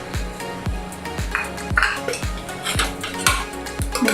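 A metal spoon stirs fennel seeds and spices in a cooking pan for a mutton curry with coconut milk. It scrapes and clinks in a steady repeating rhythm, close and fairly loud, with no talking.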